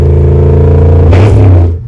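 A 2006 Chevrolet Monte Carlo SS that sat for years revs hard in park against its low rev limiter, a loud close engine drone that holds steady, surges with a rough clattering bounce near the limit, then drops away.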